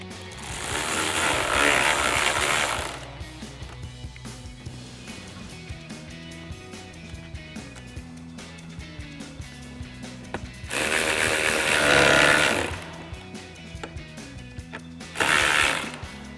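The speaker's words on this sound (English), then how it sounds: "we're simply going to reuse and reinstall our 8mm screws. Go ahead and grab our 8mm socket extension again." A ratchet with an 8mm socket on an extension drives screws back into a Jeep Wrangler headlight mount. Three bursts of rapid ratcheting are separated by quieter clicks and handling noises.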